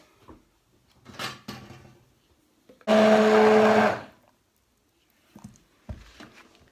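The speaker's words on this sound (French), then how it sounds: "j'ai mixé les beurres, comme ça j'ai pas de morceaux" A kitchen blender whirs loudly for about a second while mixing butters for natural dog soap, surrounded by quieter handling knocks and rustles before and after.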